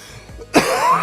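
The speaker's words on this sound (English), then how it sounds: "Cough due to COVID." A man gives a single sharp, throaty cough, close and loud, following a brief quiet lead-in with no talking.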